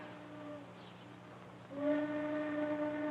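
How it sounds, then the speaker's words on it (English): A faint, distant tonal whistle sounds twice, a short blast and then a longer, louder sustained one, over a low steady hum. "Train whistle."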